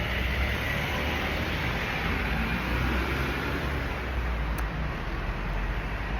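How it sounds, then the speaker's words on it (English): Noisy cars pass in street traffic in Reggio Calabria, making a steady, broadband roadway rumble with a dense hiss and no breaks. "Why are these cars so noisy?"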